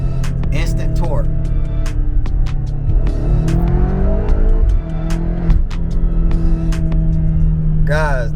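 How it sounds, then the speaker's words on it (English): A 750 horsepower BMW X6M in Sport Plus mode revs hard as the throttle is tapped, with a loud, steady low engine drone throughout and someone talking excitedly over it. "So now I'm gonna tap the gas."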